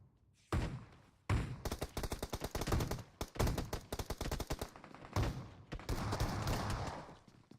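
Shotgun blasts in a video game battle-royale scrimmage, loud rapid bursts of gunfire coming in dense clusters with short gaps between volleys.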